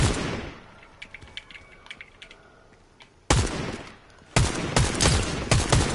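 Gunfire in the battle royale game Fortnite: a few scattered, distant pops at first, then two loud, close bursts of rapid automatic fire.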